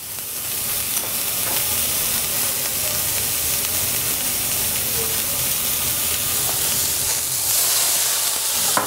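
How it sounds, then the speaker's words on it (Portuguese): Broccoli sizzles and fries steadily in a hot pan after a little water and a pinch of salt go in, a loud, continuous hiss with a steamy crackle that holds for the full stretch. "Que a gente vai pôr um pouquinho de água."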